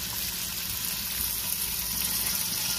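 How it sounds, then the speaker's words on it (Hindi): Onions and fish fry in oil over a high flame, giving a loud, steady, dense sizzle that continues unbroken from start to finish with no voices. "दूसरी साइड पे मैंने फिश रख दी है फ्राई होने के लिए"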